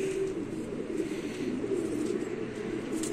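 A sick pigeon coos softly in low, repeated throaty murmurs, close by, with faint background noise and no talk.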